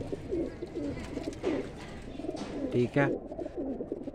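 Golden male breeder pigeons coo in a low, soft murmur from nearby, with several throaty bursts; a voice speaks briefly over them.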